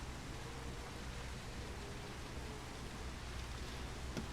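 Steady rain falls in the driving game The Crew 2 around a hovercraft crossing the Everglades, a constant broadband hiss of moderate, even level with low rumble underneath and no voices.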